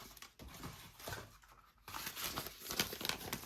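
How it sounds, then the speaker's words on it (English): Plastic-backed transfer tape for a Cricut vinyl frame project being handled close by, giving soft crinkling and tearing rustles that pause briefly partway and then come back a little louder. "You take your transfer tape."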